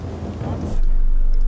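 Thunder rumbles low and heavy over steady rain during a camping trip, the rolling boom swelling louder partway through and holding on.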